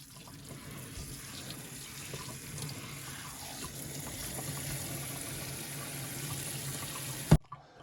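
Tap water running steadily to soak toilet paper wrapped around a wine bottle, a continuous faint splashing stream in a sink that ends abruptly with a clunk as the faucet shuts off.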